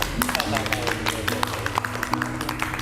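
Audience clapping at a university event about a tolerance village in Palembang, quick overlapping hand claps with a steady rhythm under a low background hum and some crowd noise.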